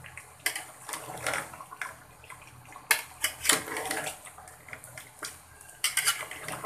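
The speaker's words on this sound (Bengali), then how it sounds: "আবার একটু নেড়ে চেড়ে দিব।" Rooster meat curry stirred in a pan with a spoon, scraping and clinking in irregular bursts of a few seconds each, close and moderately loud, with no talking.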